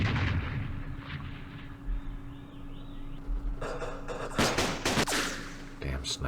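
Sniper gunfire in the Campaign Series Vietnam war game, set at the Battle of Hue: several sharp gunshot cracks and booms, some loud, over a low rumble of game audio, with no talking.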